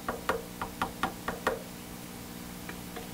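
A chopstick taps guitar amplifier circuit boards in a quick series of about eight sharp, light knocks over a low hum, then two fainter taps follow after a short pause.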